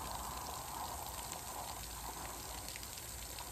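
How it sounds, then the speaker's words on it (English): Water steadily filling a Polyform A1 buoy, a continuous soft rushing and gushing hiss that stays even and unbroken throughout, with no talking. "Now you can see the actual buoy starting to take shape, starting to fill up now with water"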